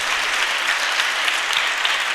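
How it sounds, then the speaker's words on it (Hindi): A church congregation claps together after a children's presentation at a worship service, a dense, steady wash of applause that stays even and fairly close for its whole length, with no voices on top. "सब तालियां बजाएं"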